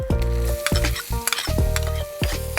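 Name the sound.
chopped onion frying in butter in a frying pan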